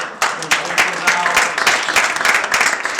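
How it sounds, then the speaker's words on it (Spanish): Audience gives a round of applause during a home energy-saving talk, loud, close clapping from a small group with sharp individual claps, lasting the whole few seconds with some speech mixed in. "Un aplauso para todos."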